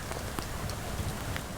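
Rain falls steadily during an outdoor Memorial Day ceremony in Waxhaw, a dense broadband patter of drops on surfaces with a few brighter splashes, fairly close and continuous with no talk.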